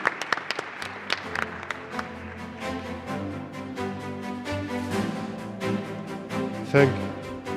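An audience applauds panelists at the close of a session on inclusive urban destinations, a sustained round of clapping that swells and fades over several seconds with a few scattered louder claps.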